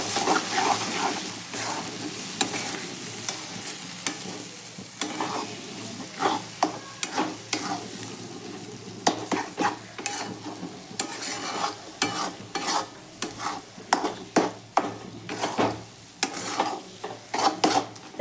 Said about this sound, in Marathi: अंडे टाकून घेतलेले आहेत. आता त्याला मिक्स करूया.